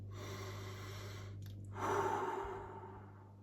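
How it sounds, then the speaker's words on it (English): One soft, slow breath, a quiet exhale with a gentle sigh-like quality, heard close up over a faint steady hum. "you can just do 1 mindful breath."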